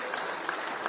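Faint, brief applause at a church gathering in Thika, a soft patter of scattered hands clapping in a quiet room, with a few louder claps standing out.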